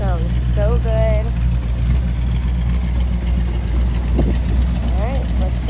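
A 1962 Chevrolet Impala SS with a four-speed manual sits idling, its steady low engine rumble close and continuous while people talk over it.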